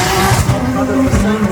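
A drift car at Drift Masters Riga qualifying runs hot over the curb, its engine roaring loud and close with tire squeal as a commentator talks over it.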